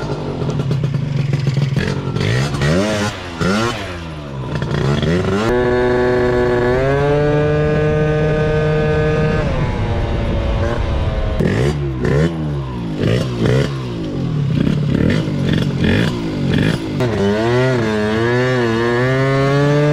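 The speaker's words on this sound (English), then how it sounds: "First ride on the Honda Elite after the rebuild." A rebuilt 72cc Honda Elite Dio scooter is revved and ridden, its buzzing two-stroke engine rising and falling in pitch through repeated loud accelerations with some clatter, close and continuous.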